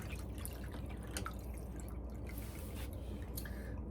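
Water drips from a washing machine drain pump hose during a clogged-pump repair, a rapid, faint patter of drops close by with a steady background hiss.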